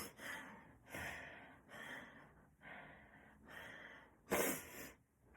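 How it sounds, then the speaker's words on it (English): Someone sniffs repeatedly through the nose on a cold morning during a gentle exercise session, a series of about six close, breathy intakes in a slow, uneven rhythm, the last one noticeably stronger, with no talking. "excuse my sniffing this morning"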